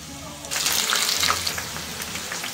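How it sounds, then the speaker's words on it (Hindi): Batter-dipped onion pakoras dropped into hot oil, a rising bubbling sizzle that swells after half a second and keeps fizzing steadily, close by. "प्याज के पकोड़े डाल लेंगे बैटर में इस तरह डिप करके।"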